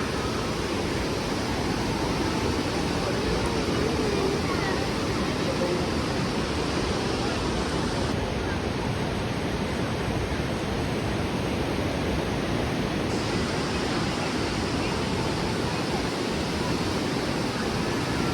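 The fast-flowing Parvati river near the Manikaran gurudwara roars continuously in a dense, loud wash of rushing water, steady throughout with no voices heard.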